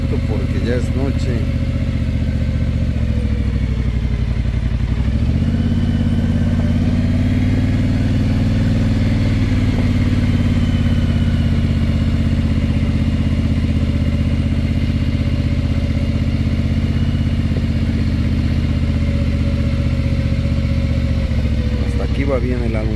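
A motorcycle engine runs steadily throughout on a night ride around a ranch, a low continuous rumble with slight shifts in pitch as the bike rides along, close and loud.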